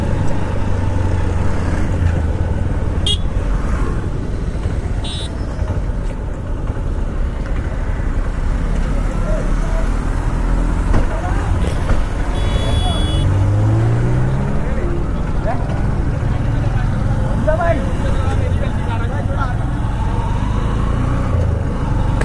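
Busy city road traffic in Surat, with a crowd gathered ahead after a crash: a steady, loud rumble of engines and passing vehicles lasting throughout, with a brief tonal rise of a passing motor partway through and background voices mixed in.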